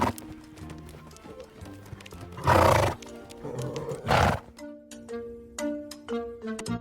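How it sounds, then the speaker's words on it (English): A horse gives two loud, breathy snorts a second or so apart, standing out over a steady tonal background of sustained notes. "Let's listen to some snorts of the horse."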